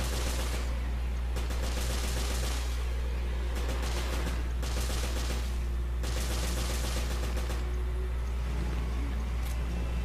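Rapid bursts of automatic gunfire from the Revelations game demo, several loud sustained volleys separated by short gaps over a constant low background drone.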